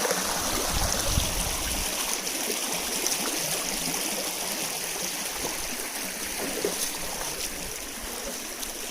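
Steady rushing of a flowing stream over rocks in the Kolli Hills, a constant broad wash of water noise that stays even throughout, with no voices.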